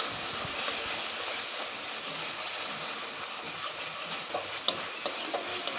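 A spice mixture sautés with a little water in a pan, giving a faint steady hiss with a few light stirring clicks near the end.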